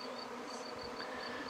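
A cluster of honey bees from a natural swarm, fallen to the ground, gives off a faint, steady, continuous buzzing with no pause.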